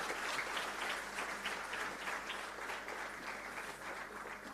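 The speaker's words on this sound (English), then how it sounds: "I request you all to have a huge round of applause." Audience at a formal ceremony for a handbook release giving a round of applause, steady, dense clapping from a large crowd that holds throughout and fades slightly at the end.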